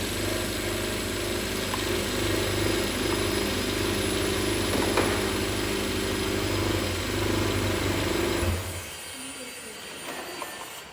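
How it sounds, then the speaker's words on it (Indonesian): A Toyota Avanza engine idling loudly and steadily, then cutting out abruptly after its MAP sensor is unplugged, leaving near quiet for the last couple of seconds. "Saya lepas MAP sensor, manifold absolute pressure. Nanti dia reaksinya akan mati engine."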